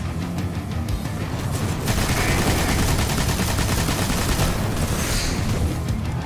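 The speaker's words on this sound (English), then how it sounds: "Something like this on a scout rifle is really going to let you pump the damage into Sepiks." Rapid, loud scout rifle gunfire in the video game Destiny during a fight against the boss Sepiks, with repeated shots and booming impacts layered over a continuous dense battle din.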